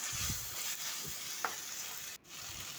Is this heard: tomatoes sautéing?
yes